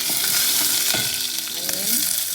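Urad dal, cumin seeds, green chili and garlic fry in oil for a moringa dal patchadi, a loud, constant close sizzle with some stirring and no voices.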